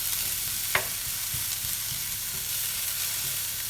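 Moussaka vegetables brown in a hot pan, a dense, even sizzle that stays loud throughout, with one sharp tap of a utensil early on and light stirring underneath, no talking.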